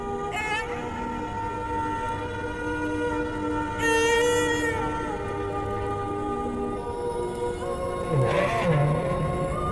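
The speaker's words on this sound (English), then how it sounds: "Petit Point will memorize the song that he hears from other whales." Humpback whale song underwater, long drawn-out tonal moans and rising and falling whistles with rich harmonics, echoing over a steady low underwater rumble.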